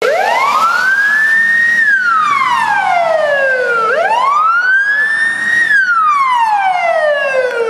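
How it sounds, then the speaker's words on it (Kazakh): An emergency vehicle with its flashing beacon on sounds a loud, close wailing siren that sweeps up and down through two full cycles, with no talk. "Жоспарға сай жарқылдақ маяғы қосылды, сирена ойнады."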